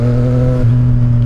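A CF Moto 675SR-R, a 675 cc three-cylinder sport motorcycle, runs at slow riding speed with the clutch pulled, giving a steady low engine drone with a slight pitch shift partway through, loud and close.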